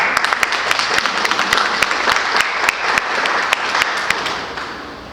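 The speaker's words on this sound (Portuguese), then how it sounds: "Palmas para a tela." Loud, dense applause from an audience at a storytelling panel on oral narrators, close and sustained with distinct individual claps cutting through the steady roar.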